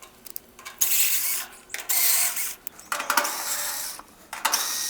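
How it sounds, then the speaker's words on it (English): A Black & Decker power screwdriver with an 8mm drive backs out the screws on an air conditioner cover, giving several short bursts of whirring, ratcheting motor noise separated by brief pauses, close and fairly loud. "I'm gonna be using this Black & Decker"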